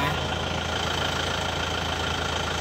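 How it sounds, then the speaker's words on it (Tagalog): Mitsubishi L200 pickup engine idling steadily with an even mechanical rumble and light ticking, close and continuous throughout; no shutdown is evident. "papatayin ho natin ang makina"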